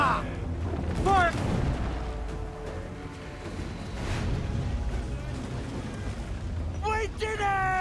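Ship cannons fire in Assassin's Creed 4, as deep booming volleys rumble under a naval battle with lingering low roar, and voices call out briefly at the start and end.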